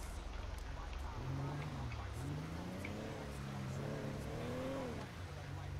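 A car engine hums steadily in a video game while the driver circles a city block, its pitch rising and falling through gear changes, loud and continuous with voices talking over it.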